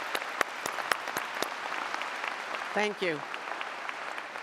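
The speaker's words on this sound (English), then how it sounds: "So please join me in giving them a big round of applause." Steady applause and clapping fill the hall at a university graduation ceremony, with a brief spoken thanks partway through the ovation.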